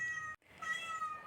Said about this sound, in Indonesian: Meong dengan suara yang lebih keras bisa menunjukkan bahwa kucing sedang kesal, khawatir atau tidak suka pada sesuatu